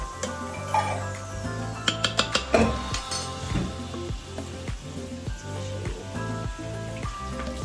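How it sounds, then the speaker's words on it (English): Vegetable soup with kidney beans being stirred in an Instant Pot, a spoon scraping and clinking against the metal insert with wet sloshing, several sharp clicks early on over soft steady bubbling, with background music running throughout. "I'm just stirring this up."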